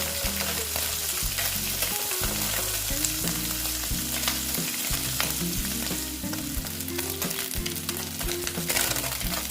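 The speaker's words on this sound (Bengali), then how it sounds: "মাছগুলো প্রায় ভাজা হয়ে গেছে" Small mourala fish crackle and sizzle in hot oil in a pan, with steady dense frying noise and occasional stirring scrapes, close and continuous with no talk.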